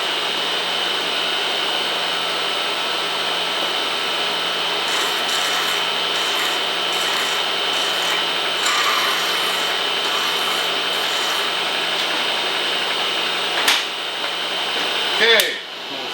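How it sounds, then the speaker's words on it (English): A small hand file rubbing against the shoulder of a metal bushing, a steady close rasping scrape that runs throughout with a couple of sharper knocks near the end. "I'll grab a smaller file."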